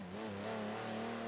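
Porsche engine held at full throttle in Forza on the short Hockenheimring layout, a steady sustained mid-pitched drone with the pitch rising slightly, close and continuous with no talking.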